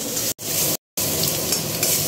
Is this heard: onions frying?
yes